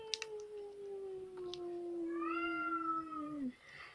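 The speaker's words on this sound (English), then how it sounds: "That is my cat meowing." A male cat meows loudly indoors in one long drawn-out call with rising and falling pitch, lasting a few seconds, close and clear with no talking over it.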